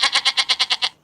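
Cartoon sheep bleating in a fast, loud, close stutter of about eight evenly spaced pulses within one second, a single quivering call with no talk over it.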